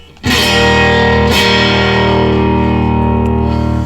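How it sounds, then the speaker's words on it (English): A loud, gritty tube amp distorted electric guitar chord rings out and sustains, with a second strum partway through, thick and saturated with a touch of reverb. "what's happening when you hear that gritty sound of distortion"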